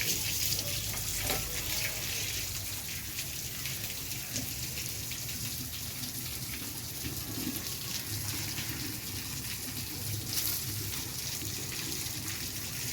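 Steady rush of water running from a tap, a constant even flow at moderate level with no voices.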